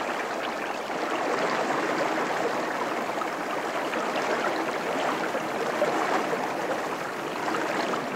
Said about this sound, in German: Immer mehr Wasser strömt nach,